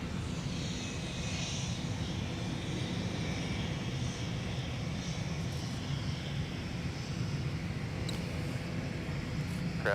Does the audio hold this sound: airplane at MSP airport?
yes